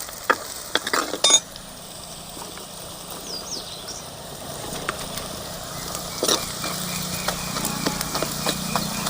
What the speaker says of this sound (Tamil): நல்ல வெங்காயம் செவக்க வதங்கிடுச்சு